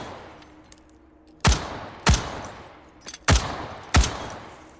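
Four loud, sharp gunshots crack from a firearm in the virtual-reality shooting game H3VR, evenly spaced about a second apart and each trailing into a brief echo, with quieter clicks and handling noises between them and no speech.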